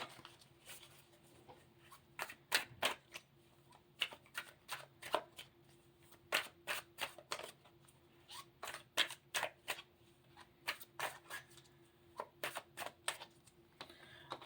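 Tarot cards are shuffled in quick riffling bursts, each a crisp flutter, repeating in irregular clusters at close range with near-silent pauses between.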